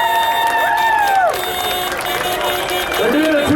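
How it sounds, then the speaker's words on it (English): A crowd in a village street cheers and applauds as a tractor run from County Kerry arrives, with steady, loud cheering and engine noise running under the whole stretch. "Come on, get a big round of applause."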